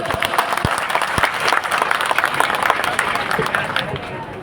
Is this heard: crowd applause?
yes